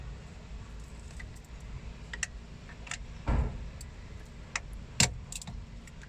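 Quiet cabin of a JI005 two-seat electric mini car as its parking brake is worked: a few sharp clicks and a ratcheting clunk over a low steady hum, with light tapping and handling noises in between.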